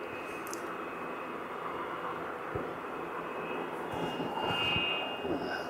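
Just after landing at Aberdeen Airport, a fixed-wing airplane sends a faint, steady engine roar with a thin whine across the distance, holding low and level throughout with no talk.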